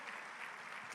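Church congregation clapping together, a soft, even wash of many hands heard from a distance, steady and faint for a second.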